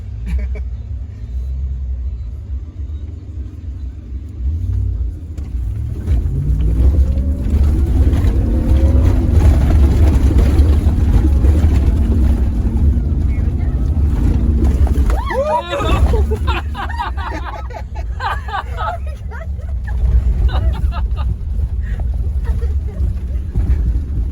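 Ram TRX pickup trucks jumping off-road in the desert at a Barrett-Jackson 2022 event, heard as a steady, loud engine rumble with a swelling surge midway, while people talk and exclaim over it throughout.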